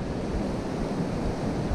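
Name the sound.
wind blowing sand on a beach by the surf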